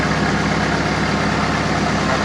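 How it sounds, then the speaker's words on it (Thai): An old farm tractor engine idles steadily and loudly with a rough, low chugging drone and no break. "เครื่องยนต์พวกนี้จะเสียงดังนิดนึง เพราะว่าเป็นรถเก่า"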